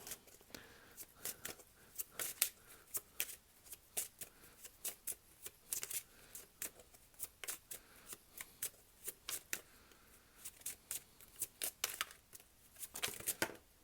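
Tarot cards are shuffled close by in a long run of crisp, rhythmic riffles and snaps, repeated steadily and fairly loud, with no speech over them.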